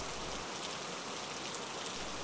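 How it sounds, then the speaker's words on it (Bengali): Monsoon rain falls outside a home balcony as a soft, even hiss that stays constant and fairly faint throughout, with no other sounds standing out. "আজ বৃষ্টি হচ্ছে"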